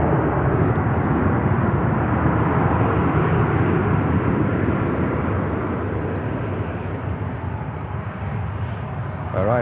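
An American Airlines Boeing 737-800 jet at Charlotte airport roars loudly and continuously, a broad steady engine rumble that stays strong from start to finish.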